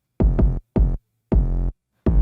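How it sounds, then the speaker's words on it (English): An 808 bass from a sample pack plays in a music production session: deep booming bass notes with sustained tails come in separate bursts at an uneven rhythm, loud and clean against silence. "Then underneath that, I have just an 808."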